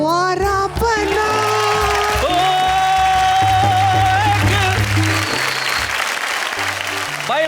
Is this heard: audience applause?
yes